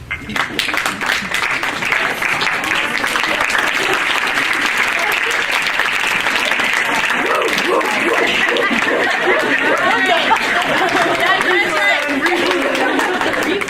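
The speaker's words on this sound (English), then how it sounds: "Ladies, stand up and give your folks applause." Loud, sustained applause fills a softball team banquet hall as players and guests clap, mixed with chatter, laughter and cheering voices throughout.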